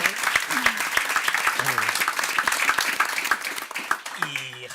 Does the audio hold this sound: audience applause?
yes